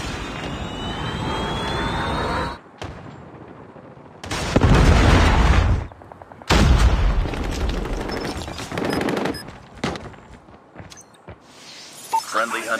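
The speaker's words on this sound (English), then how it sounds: "Predator missile inbound." A Predator missile strike in Call of Duty Mobile brings heavy booms and rumbling blasts with aircraft-like roars, loud and sharp, broken by short quieter gaps.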